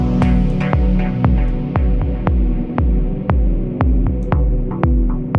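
A looping dub techno synth pattern with added delay, deep pulsing bass hits and bright echoing plucks that repeat and trail off, steady and loud with no voices.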